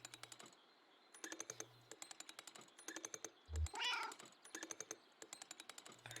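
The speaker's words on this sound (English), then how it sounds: "Argumentative meow." A cat meows once in the video game Kentucky Route Zero, a short expressive call standing alone between steady rhythmic clicking like typing that runs throughout, with no talking.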